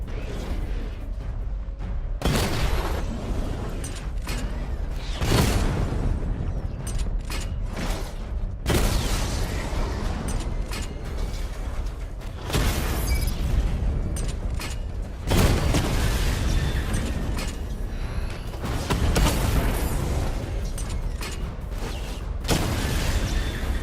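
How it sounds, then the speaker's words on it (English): Repeated missile barrage explosions in the Batman: Arkham Knight video game, heavy booming blasts arriving in waves every few seconds over a continuous loud rumble. "Charge up missile barrage to level 2 and destroy 4 active targets to complete diagnostic test"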